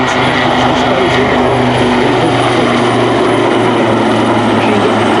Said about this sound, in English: this is now the only dedicated maritime attack helicopter in the UK's inventory